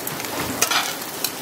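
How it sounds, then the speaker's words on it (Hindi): Momos frying in a pan with chopped cabbage and green chili, steady close sizzling with brief scraping stirs, no voices. "गाइस अब हम हमारे मोमोज को थोड़ा सा फ्राई कर रहे हैं"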